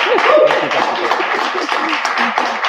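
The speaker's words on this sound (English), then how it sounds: "I know you guys are already clapping" An audience clapping at a Women's History Month event, with steady applause filling the room and voices and cheers rising over it.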